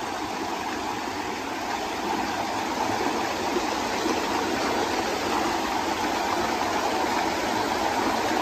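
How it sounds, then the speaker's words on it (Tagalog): Otso Otso (88) Falls in Barangay Macabod, San Jose del Monte, Bulacan, a waterfall roaring as a dense, steady rush of water, close and continuous with no voices. "tinatawag nilang 88 Falls, mga kabayan."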